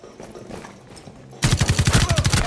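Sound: shotgun fire in Rainbow Six Siege video game

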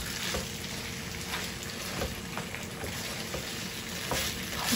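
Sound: mixing ketchup into fried chicken manchurian

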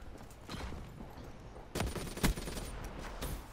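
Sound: rockets being fired in a video game

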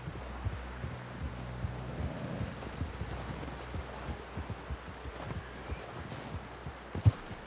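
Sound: horse hooves clip-clopping, video game Red Dead Redemption 2

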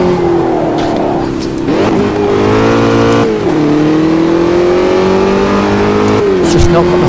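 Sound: Formula Dirt car engine in Automobilista 2 video game at Hockenheim

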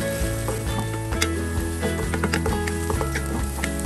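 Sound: garlic and onion sizzling while sautéing in a pan

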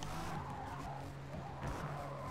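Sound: race cars skidding in Forza Motorsport video game, Nissan and Aston

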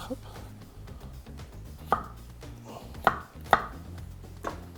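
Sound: knife chopping potato into thick cubes

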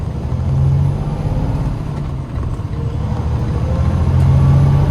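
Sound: truck pulling out of mud

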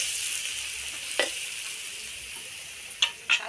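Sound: frying in a wok until reddish brown

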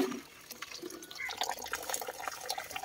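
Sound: water being poured into a pot for cooking rice

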